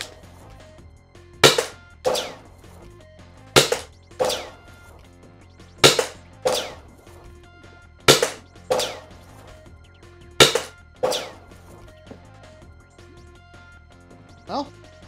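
Sharp, loud pops from a CO2-powered Nerf blaster pistol firing foam darts, about seven shots spaced roughly one to two seconds apart, each with a short decaying tail, and a fainter final shot at the end.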